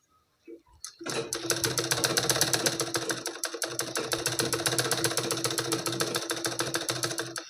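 A sewing machine stitches a blouse. A few soft handling knocks come first, then the machine runs continuously in a fast, even mechanical rattle close by.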